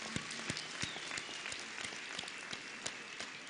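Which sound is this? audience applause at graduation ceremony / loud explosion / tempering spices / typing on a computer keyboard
audience applause at graduation ceremony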